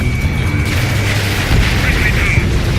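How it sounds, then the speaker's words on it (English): A bomber blows up after being shot down in the Ace Combat 7 video game, a deep rumbling boom rolling over a steady jet-engine roar with a radio voice talking over it. "Trigger shot down a bomber."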